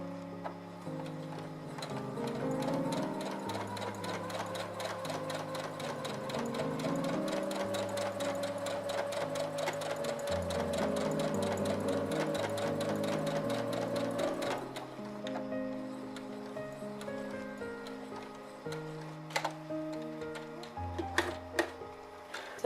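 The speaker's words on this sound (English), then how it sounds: "I'm going to just straight stitch down the line" Sewing machine running a straight stitch on a small card holder project, a fast steady mechanical chatter close by for around fifteen seconds, then slowing into a few separate clicks and thumps.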